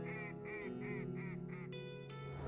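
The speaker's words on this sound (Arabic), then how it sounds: "بطة سمعوا صوتها وسط الصخر" A duck trapped among rocks quacks in a rapid series of five nasal calls followed by a couple of longer honking cries, close and fairly clear.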